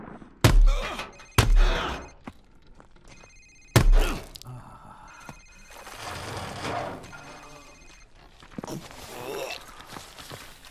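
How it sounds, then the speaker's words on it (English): In Call of Duty: Modern Warfare Remastered, a cell phone rings with repeated electronic tones amid loud thuds and impacts in an interrogation scene, with voices and muffled movement in between. "Sir, it's his cell phone."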